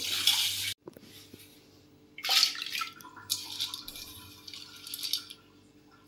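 Pea lentils are rubbed and rinsed by hand in water, bursts of splashing and swishing separated by a brief silence and quieter dripping, close by, with no speech.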